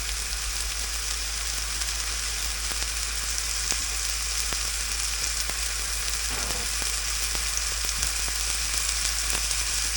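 A frozen Member's Mark Angus burger patty frying in a pan, a constant even sizzle close by with a few faint spatula taps and no voices.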